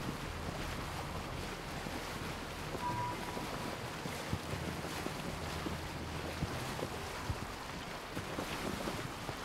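Boat in Assassin's Creed Origins moving fast across water, a continuous rush of wind and splashing waves with steady hull noise, no talk.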